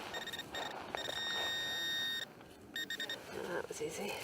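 Garrett Pro-Pointer AT handheld metal detector pinpointer emits steady electronic beeps and tones on a target, sounding in bursts with short gaps under a background voice.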